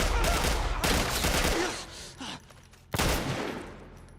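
Gunfire from The Last of Us Part I, heard as a few sharp close shots separated by brief pauses, loud and mostly alone.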